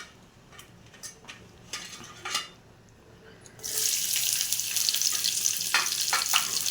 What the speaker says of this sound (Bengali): আমি কড়ার মধ্যে পেঁয়াজ দিয়ে দেবো।